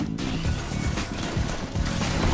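Graves firing his shotgun in League of Legends, a top-lane crit build landing heavy blasts: dense, loud bursty impacts over steady game noise and music, with no clear single isolated shot.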